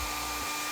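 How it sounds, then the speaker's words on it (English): A hair dryer blowing to warm a sticker on a dusty Xbox Series X, a brief steady whooshing whir, close and constant. "we're just going to warm it up with this hair dryer"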